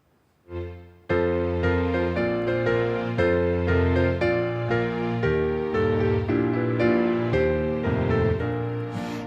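An electronic keyboard plays the introduction to hymn 498 at a Sunday worship service in a church, with sustained chords and a steady melody that start after a brief swell and fill the hall without voices.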